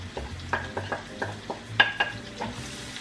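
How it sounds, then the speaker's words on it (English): Onion browns in olive oil in a pan for veal scallopini, a soft sizzle broken by repeated close scrapes and stirring knocks of a utensil against the pan, with one sharper clink partway through. "Brown off the onion"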